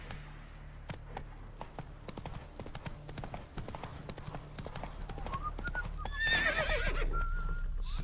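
A horse gallops in The Witcher 3, steady clip-clop hoofbeats with harness jingling, then a neigh near the end over a low ambient background.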